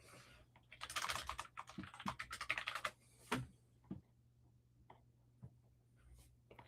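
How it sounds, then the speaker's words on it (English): Quiet, close computer-keyboard typing in uneven bursts of rapid clicks, busiest early on and then thinning to scattered single keystrokes, with a low steady hum beneath and no talking. "I'm just typing one off"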